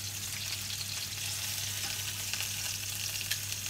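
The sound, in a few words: duck breast (magret) frying in a pan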